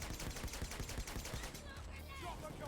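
Rapid video-game gunfire from a Kimbo SMG, a dense burst of quick shots over game noise that fades out after about a second and a half.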